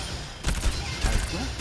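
Baptiste's gun in the Overwatch video game fires short bursts, with a couple of clustered sharp volleys standing out over a dull, busy game background.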